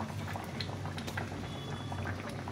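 A pot of tilapia fish curry in mustard paste bubbles steadily at a rolling boil, a continuous close, moderately quiet simmering and popping with no voices.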